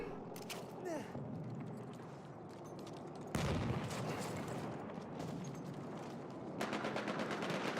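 Rapid gunfire rattles through an Xbox One tournament match, heard as repeated bursts and single shots at moderate distance beneath a caster's steady commentary.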